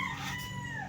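An old breeding rooster crows, a drawn-out tonal call heard over steady background noise, moderately near and held through the moment.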